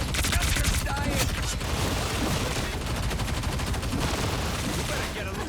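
Enemy gunfire in the Marvel Rivals hero shooter, a dense, continuous rattle of rapid shots running loud and steady throughout, with game music and effects layered underneath.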